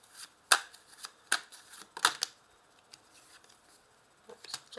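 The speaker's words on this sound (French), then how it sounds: "je vais recouvrir les 3 cartes de tarot avec 3 cartes du tarot de Rider-Waite." Rider-Waite tarot cards are laid down one at a time, giving a few soft, close taps and slides with quiet pauses between them.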